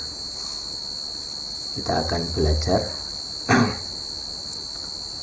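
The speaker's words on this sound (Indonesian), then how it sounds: "Jadi malam ini ditemani suara jangkrik" Crickets chirping at night, a steady high continuous trill running under the whole stretch while someone speaks quietly nearby.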